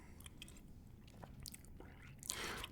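Quiet close chewing of a salmon salad kit with crunchy vegetables, soft crunches and wet bites at an irregular pace, with a louder crunch near the end.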